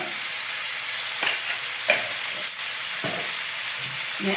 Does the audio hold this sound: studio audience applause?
no